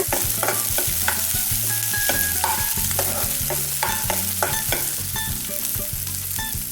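Onion and chilli frying in oil in a pan, with a steady sizzle broken by repeated rhythmic scraping and clinking of a utensil stirring against the metal, close and clear, no voices.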